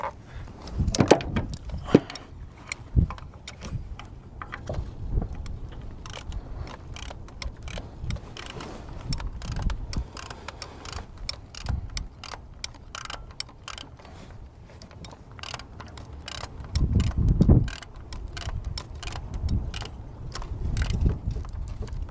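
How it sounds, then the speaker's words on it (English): A ratchet fitted with a short 10 mm socket works the coil bolts on a Toyota Highlander's spark plug coils, giving repeated bursts of quick clicking with pauses between, close and moderately loud. "You'll want to use like a short 10 millimeter on this because it just isn't enough clearance there."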